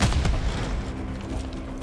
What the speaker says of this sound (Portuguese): Quem tá atirando em mim?